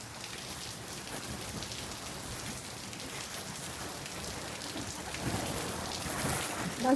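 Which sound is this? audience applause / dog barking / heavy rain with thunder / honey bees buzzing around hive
heavy rain with thunder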